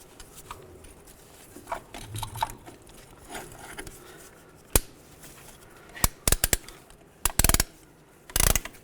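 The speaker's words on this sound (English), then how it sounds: "And nice and slow, compress the caliper." A caliper compressing tool slowly pushes the brake caliper pistons back on a 2005-15 Nissan Xterra. Soft mechanical clicks are followed by sharp ratcheting snaps in short bursts near the end.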